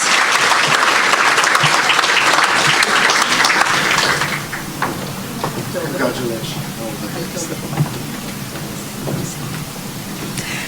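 A crowd at an Australia Day ceremony honouring school and university graduates applauds steadily, a dense wash of clapping that thins into scattered claps with a voice over it.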